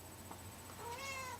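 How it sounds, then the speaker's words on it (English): A pet cat gives a single short meow, faint and close, rising at the end against a quiet room hum. "I'm so sorry, that's my cat."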